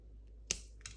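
A single crisp snip of scissors cutting thread while making a pipe cleaner doll, with a fainter click just after, set against a quiet room.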